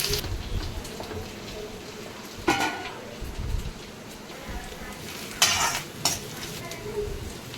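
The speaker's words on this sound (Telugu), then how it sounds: "ఇటు ఆనియన్స్ కూడా బాగా ఫ్రై అవ్వాలి. ఇప్పుడు మిరియాలు యాడ్ చేసుకొని అవి కూడా కలుపుకోవాలి." Onions and peppercorns fry in a pan for chicken biryani, a steady sizzle under the scrape and clatter of a spoon stirring against the metal, with a few louder knocks.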